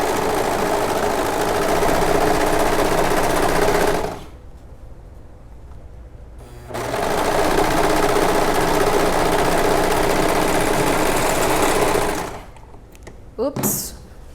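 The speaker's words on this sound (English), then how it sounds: "and let me sew this." Serger overlock machine stitching fabric, a loud, fast mechanical whir that runs for about four seconds, stops, then runs again for about six seconds before cutting off, with quieter handling noise in the gaps.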